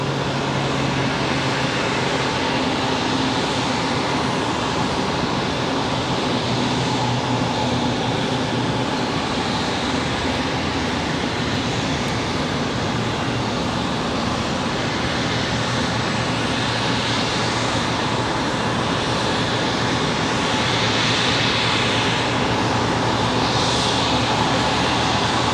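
A Frontier airliner takes off from a runway at Raleigh-Durham airport with a loud, sustained jet roar that holds steady and near for the whole stretch and swells a little toward the end.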